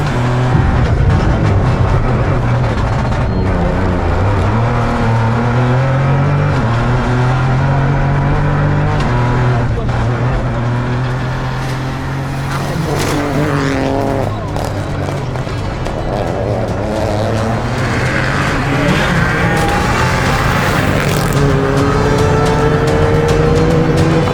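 Rally car driving a race stage, its engine note droning and shifting pitch steadily as it accelerates and revs, loud and close throughout the whole run.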